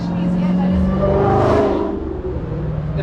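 A car passes close by with a steady engine whir and road noise that swells and then fades, with people talking over it outdoors.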